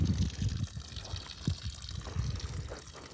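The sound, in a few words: well water running into wildlife tank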